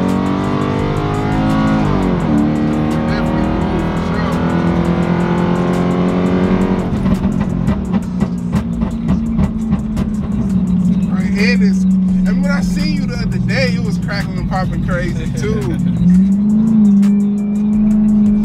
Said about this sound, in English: I could just feel the whole car rumbling